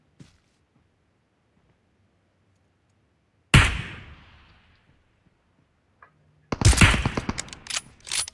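Gunfire in PUBG Mobile during a rush match, a loud close burst that fades out, then after a pause a rapid run of shots.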